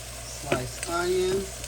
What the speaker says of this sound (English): So I got the ground beef going.